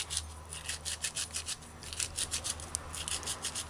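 Rosemary herbs are ground fine with rapid, rhythmic rubbing strokes, a close, dry scraping repeated about three times per second with no talking.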